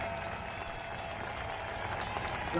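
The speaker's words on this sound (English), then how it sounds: "round of applause for Matt Field and Jonathan Castro" Steady crowd applause and cheering from fans at a Formula Drift Top 16 event in Orlando, a dense continuous wash heard from a distance.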